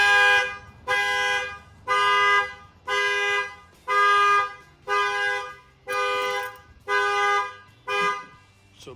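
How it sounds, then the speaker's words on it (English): A factory pickup truck alarm blares as the tailgate is lowered, sounding as a loud, steady series of about eight evenly spaced horn honks, each lasting roughly half a second, close by with no talking over it. "you can see how far it has to go down for the factory alarm to fire off"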